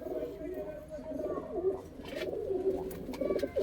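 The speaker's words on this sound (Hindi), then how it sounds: "एक लाल चीना कबूतर और छोड़ा है भाई" A red Cheena pigeon, sold as Punjabi Malwai stock, gives low, throaty, repeated coos close by, with other birds and faint background noise around it.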